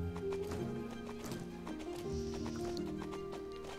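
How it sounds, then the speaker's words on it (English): An Appaloosa horse in Star Stable Online moves at a slow gallop, its rhythmic game hoofbeats mixed with a whinny over a steady musical backdrop. "here's the slow gallop"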